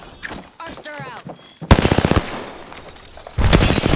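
Sheila, the mounted minigun in the video game Apex Legends, fires in rapid bursts, a loud, dense rattle of automatic gunfire that starts and stops, with other game sounds and a brief voice between the bursts.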